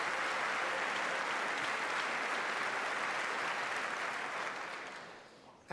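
Sustained audience applause at a State of the Union address, a dense, steady wash of clapping that holds loud for several seconds before fading away near the end.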